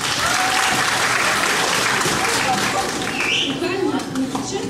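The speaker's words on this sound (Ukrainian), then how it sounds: "Отже, шалені оплески," Lively audience applause for a student group's small concert, steady and close throughout, with voices audible under the clapping.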